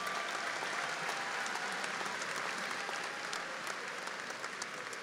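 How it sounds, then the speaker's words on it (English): Steady, sustained applause from a commencement audience cheering graduates at Angelo State University, a broad even wash of clapping that holds without pause throughout. "Let's have a big round of applause for these graduates,"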